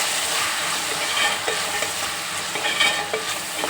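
Chopped tomatoes stirred into onions sizzling in a pan for a mixed sprouted-legume stir-fry, a steady close frying hiss with scraping stir strokes and soft clatter throughout, no talking.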